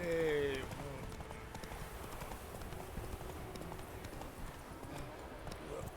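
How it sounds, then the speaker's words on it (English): A horse's hooves clip-clop steadily at a walking pace in The Witcher 3 video game, faint and even under soft background game sound. "Just a random horse standing there."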